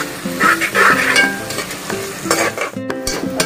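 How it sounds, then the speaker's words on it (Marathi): Sliced onion fries in a hot pan with a little salt for chicken biryani, a steady close sizzle broken by repeated scraping and clinking as a spoon stirs the pan. "कांदा चांगला गुलाबी रंगावर आपण फ्राय करून घेऊया।"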